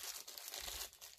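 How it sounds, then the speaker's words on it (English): A plastic bag from a paracord survival kit being handled, giving a close, continuous crinkling and rustling with brief crunchy bursts, no voices. "You got another plastic bag."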